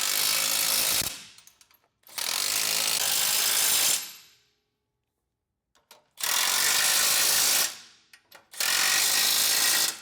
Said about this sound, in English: go ahead and tighten down the 4 top bolts and the 4 side bolts